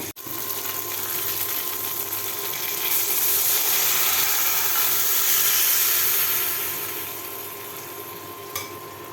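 Ginger, cumin, turmeric and chilli paste soaked in water frying in a pan for a fish curry, a steady loud sizzle with bubbling that swells mid-way and eases toward the end, close with no voices.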